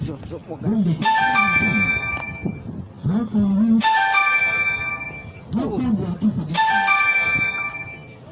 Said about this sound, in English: Somebody's calling me, please. Hang up the phone.